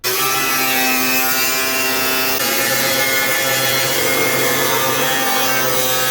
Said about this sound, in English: next step is get that bumper trimmed up so I can actually start extending it